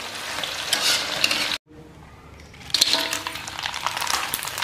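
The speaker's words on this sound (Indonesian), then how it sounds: "bawang gorengnya pertama biar bisa minyaknya harum" Shallots frying in hot oil give a loud, steady sizzle with stirring noises. The sizzle cuts out briefly partway through, then returns strongly.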